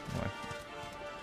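Horse hooves clip-clop in an anime episode of Reincarnated as a Slime as a rider goes by, a short run of soft, rhythmic hoofbeats over a low background.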